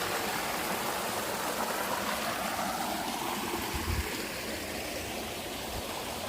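Continuous rushing of flowing stream water, a steady, even wash of sound with no voices.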